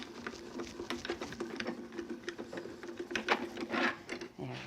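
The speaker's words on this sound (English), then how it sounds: "We'll run that through the grand caliper." Grand Calibur die-cutting machine with a junior plate being cranked through, giving a steady mechanical whirring and rattling with repeated clicks, moderately loud and close, running continuously without talk.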